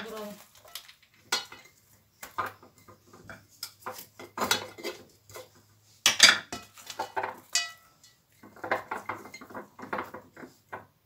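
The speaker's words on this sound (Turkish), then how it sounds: "Ve kalan biberlerimi kavanozlarımızın üzerine dolduralım." Peppers being packed into glass jars for pickling make a series of close clinks, knocks and rustles, arriving in irregular bursts with short pauses between and one sharper glassy clink midway.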